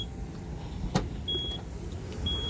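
The power tailgate of a Renault QM6 car runs with a low, steady motor whir, a short sharp click near the start and a couple of faint high beeps, heard without talk.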